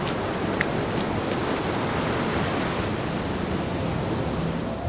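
Steady rain falls over the sea along a coast before the monsoon reaches the Ghats, a dense, even hiss of rain and surf with no voices, unchanging throughout.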